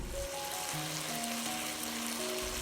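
Chicken feet in sauce cooking in a covered wok over low heat, a soft, even bubbling sizzle that continues steadily with a faint hum underneath.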